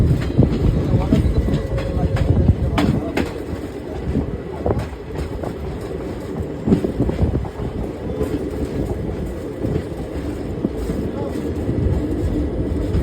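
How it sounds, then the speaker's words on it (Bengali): Train passing near Dhupguri station, a continuous close rumble and clatter of wheels on rails with some fluctuation, while a voice speaks faintly under it. "এই যে ট্রেন যাচ্ছে।"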